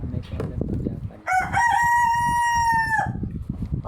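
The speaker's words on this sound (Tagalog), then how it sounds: "Oy, manok!" A rooster crows once, loud and close, in a long drawn-out call that cuts in over background chatter and ends abruptly, with people talking before and after.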